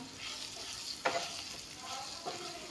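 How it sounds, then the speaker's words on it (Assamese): Pointed gourd and bitter gourd sizzle quietly in hot oil while a spatula scrapes through them in two or three distinct strokes, close and alone without any voices. "এইখিনি অলপমান ভাজি ল'ম।"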